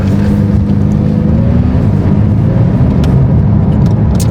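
Loud, steady engine drone of a McLaren 570S on the move, a low continuous rumble with a faint rising whine partway through and no talking over it.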